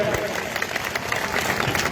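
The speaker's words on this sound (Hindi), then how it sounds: "एक बार जोरदार तालियों से उनका स्वागत किया जाए।" Crowd applause welcoming a guest at a large outdoor mahapanchayat rally, dense and steady clapping that fills the whole moment at close range, with no voices rising above it.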